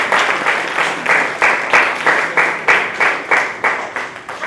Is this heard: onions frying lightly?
no